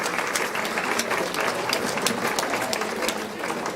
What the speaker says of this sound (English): Let's have a round of applause for them all